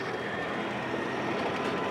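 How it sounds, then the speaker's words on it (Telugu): A Hyderabad metro train passes near a steel bridge: a steady, moderately distant rail rumble and rush with no voices. "metro train వస్తున్నట్టుంది"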